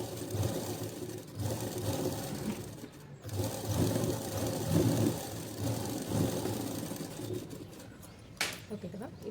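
A sewing machine runs in steady bursts while stitching a blouse, its rhythmic mechanical whirr close and continuous with brief pauses, and a faint click toward the end.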